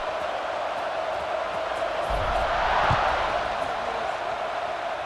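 Stadium crowd in the EA Sports College Football 26 video game before a kickoff, a steady broad roar of many voices that swells slightly near the middle and stays loud and continuous throughout.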